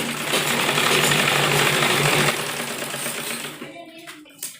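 A sewing machine stitches a waistband belt onto a churidar pajami in a steady rapid mechanical whir, loud for a couple of seconds, then slowing and trailing off into a few clicks and handling noises.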